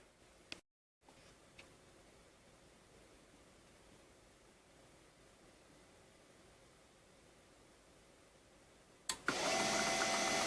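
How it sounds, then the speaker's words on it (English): Faint steady mechanical hum with a few light clicks from an HP LaserJet printer being handled, then a sudden louder whirring rush of machine noise near the end. "Let me do some fiddling with this printer."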